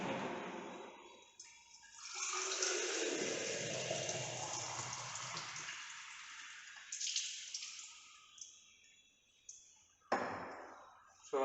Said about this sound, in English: now you have to fill this pycnometer bottle completely with water